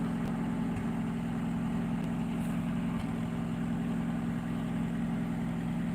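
A car engine idles steadily just after a choke-assisted start, on a car that has recently been repaired, with a constant low mechanical hum running close and continuous with no talk.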